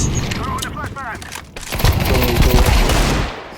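Rapid bursts of AK rifle fire in a Counter-Strike match on the Cache map ring out loud and close, mixed with game effects, while a player talks over the shooting.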